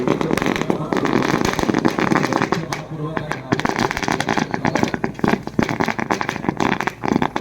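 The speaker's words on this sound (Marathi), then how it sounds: "चालू केले फटाके" Strings of firecrackers go off at a bullock cart race, a dense, rapid, continuous crackle of sharp bursts under the excited talk of a crowd.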